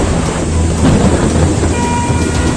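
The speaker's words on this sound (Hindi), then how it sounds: "बारिश लगातार हो रही है।" Heavy, steady rain pours down in a roaring wash during flooding in Haridwar, with low rumbling like thunder underneath and no voices, loud and continuous throughout.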